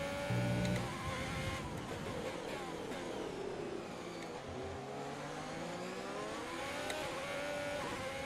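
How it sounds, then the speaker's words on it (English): A Formula 1 race car in the F1 2020 video game at Bahrain spins its wheels, a continuous high engine whine with shifting, sliding pitch sustained across the whole stretch. "Yeah, the wheel spin there."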